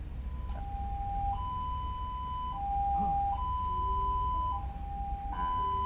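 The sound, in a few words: ambulance siren for non-emergency patients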